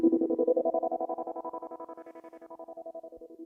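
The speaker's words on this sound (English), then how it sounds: "It's a tremolo pedal, but when I use it with the wah pedal" A guitar played through an analog tremolo pedal combined with a wah pedal gives one sustained, pulsing note whose rapid, even throbs sweep up in tone and then back down, fairly quiet and alone.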